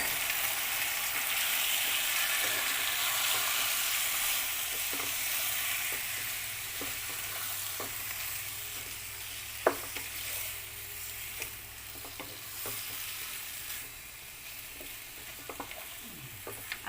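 Cuttlefish sautés in a pan for Filipino adobo, giving a steady loud hiss of sizzling with occasional utensil clicks and scrapes as it is stirred, no voices.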